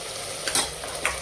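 A spoon stirs khichdi seasoned with salt and coriander powder in a cooking pot, giving soft scraping swishes with a couple of brief louder scrapes over a faint steady background.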